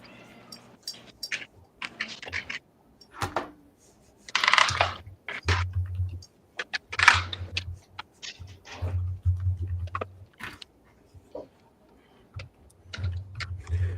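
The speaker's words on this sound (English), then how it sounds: "I'm just typing stuff." Quick bursts of typing on a computer keyboard, with scattered clicks and clustered key taps close by, under a low background hum and occasional faint noises.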